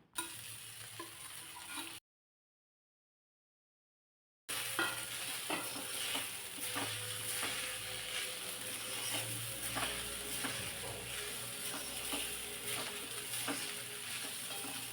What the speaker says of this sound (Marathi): एखादा मिनिटभर हे परतून घ्यायचं आहे अगोदर.